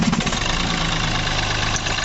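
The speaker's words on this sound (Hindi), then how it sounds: "ये आवाज़ें महिंद्रा बोलेरो की" A Mahindra Bolero SUV engine idles steadily with a heavy, low rumble and a faint knocking throb, close and even throughout.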